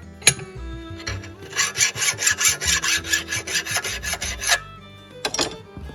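The edge of a hand-forged blacksmith knife being sharpened with close, quick rasping strokes in a steady rhythm of about a dozen passes, followed by a couple more strokes after a short pause.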